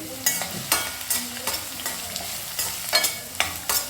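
Bay leaf and chillies fry in a pan with a continuous sizzle, broken by regular sharp scrapes and knocks of a stirring spoon about every half second.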